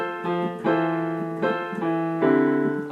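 Piano plays the melody of a song together with sustained chords, several notes ringing over a steady harmonic bed with a few clear new attacks, played alone with no talking.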